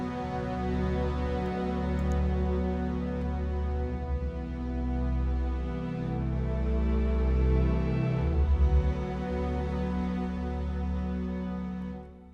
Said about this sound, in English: We still have our Friedlander Violin going on as well, so doubled with the concertino and the basses.